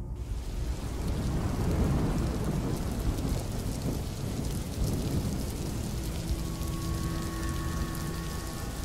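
Steady rain falls at night, a dense hiss of drops on surfaces with low rolling thunder rumbling underneath, moderately quiet and continuous throughout.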